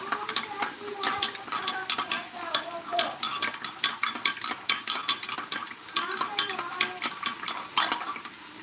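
Utensil stirring Hawaiian pork sautéing in a pan, with repeated scraping clicks and rattles in an uneven rhythm over a faint sizzle, close up and with no talking.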